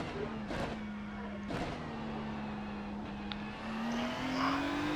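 A Ferrari 296 GT3 race car runs at Spa in iRacing, giving a steady engine drone that holds fairly level, then rises in pitch toward the end, with a couple of brief whooshes of passing cars.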